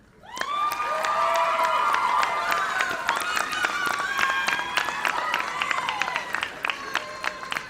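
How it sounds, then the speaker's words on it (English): A large crowd at a nursing graduation and pinning ceremony applauds steadily with sharp overlapping claps, joined by loud cheers and whoops throughout. "for us to give you a round of applause"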